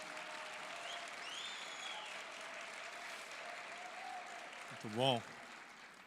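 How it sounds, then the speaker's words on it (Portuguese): A church forum audience applauds the arriving pastor, a steady moderate clapping wash throughout, with a short spoken remark near the end. "Receba o pastor Renato com a salva de palmas"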